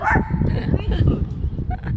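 A dog barks in short bursts close by, mixed with people talking and laughing over it.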